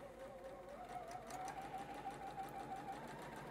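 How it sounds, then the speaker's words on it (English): A sewing machine stitches through a quilt square in a steady, rapid mechanical hum and chatter, close but fairly quiet, running continuously without a break or talking. "I'm just gonna lower it right onto the needle there, and I'm gonna stitch through"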